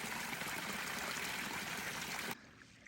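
A mountain stream in the San Gorgonio Wilderness trickles and splashes in a steady, soft wash of water that cuts off abruptly near the end.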